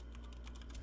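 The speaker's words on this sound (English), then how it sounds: "Wait, I'm typing it out." Rapid, faint clicks of typing on a computer keyboard fill a short stretch, with no voices.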